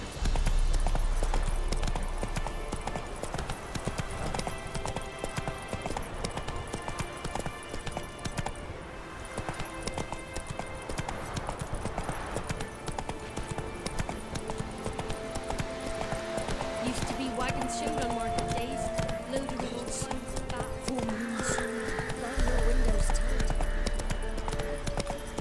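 Horse galloping in The Witcher 3 video game, a steady run of hoof clip-clops under game music and ambience, with a rider's voice urging the horse on at times.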